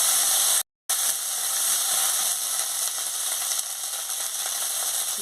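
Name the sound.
potatoes frying with turmeric powder in a pan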